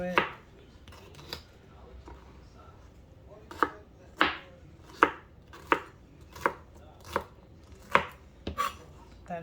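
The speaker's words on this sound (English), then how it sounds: "I'm just gonna run the knife through it." A knife chops through a seeded vegetable on a cutting board while making spaghetti sauce, a run of crisp, close thuds, a few scattered at first, then a steady rhythm of about one every half second, with no talk.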